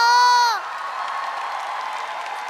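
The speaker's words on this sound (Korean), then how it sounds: "박수 한번 주세요." After a drawn-out vocal note, an audience at a marching-band percussion performance contest breaks into applause and light cheering, a sustained, moderately loud wash of clapping.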